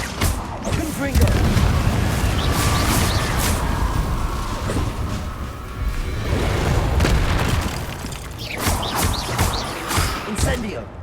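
Loud, repeated booming fire-spell blasts from combat in the Hogwarts Legacy video game, hitting one after another in a dense, continuous barrage with no pause.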